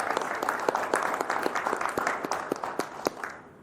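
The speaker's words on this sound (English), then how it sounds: "round of applause" An audience at a civic event about an investment in a Gateway Center applauds steadily, a dense wash of claps with sharper individual hits, fading out after a few seconds.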